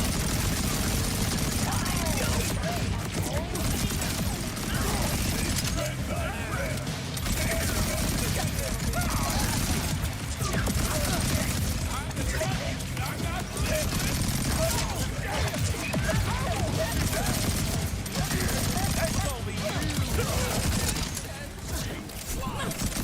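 Dense, continuous gunfire from a fish gun in Borderlands 4 on Ultimate Vault Hunter Mode, rapid shots rattling throughout amid game effects and a voice speaking over the action.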